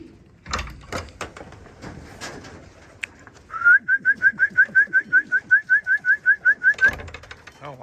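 Racing pigeons arrive home at the loft after a 90-mile race. A few sharp clattering knocks come first, then a close, rapid run of about fifteen squeaky, whistle-like chirps in even rhythm.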